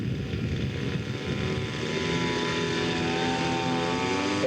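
Scale model AD Skyraider taxiing back after its wings fold down and lock, the propeller engine holding a steady buzzing drone with a slowly shifting pitch, close and loud outdoors at a scale aircraft show.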